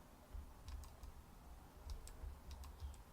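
Faint keyboard shortcut taps come during digital figure sketching: scattered light clicks in small bursts, quiet and close, over soft low background noise.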